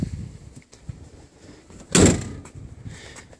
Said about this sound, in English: This door fits a little better, although it still has some gap issues, alignment issues.